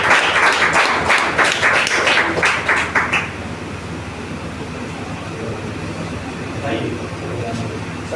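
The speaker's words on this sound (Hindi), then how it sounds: "हम चाहेंगे एक जोरदार तालियां होनी चाहिए" An audience claps at a small introduction event, a loud burst of applause for about three seconds that drops into a low room hum with faint murmuring.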